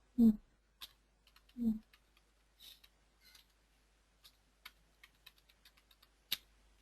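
Soft, scattered key clicks from a computer keyboard while working in an Excel spreadsheet, close and quiet, with a couple of brief low thumps early on and short gaps between keystrokes.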